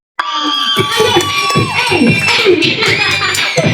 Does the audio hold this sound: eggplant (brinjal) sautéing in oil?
no